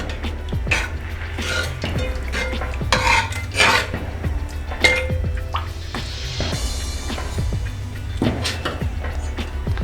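Dalcha with salt and coriander is stirred in a metal pot, with repeated clinks and scrapes of a spoon against the sides and wet sloshing of the liquid, close and fairly loud.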